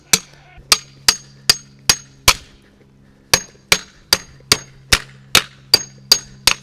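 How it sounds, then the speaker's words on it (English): Regular hammer striking a mallet laid into the bone union of a pig carcass during butchering: sharp metallic clanks in a steady series, a short pause, then another run of evenly spaced blows, close and loud. "But I can use a regular hammer."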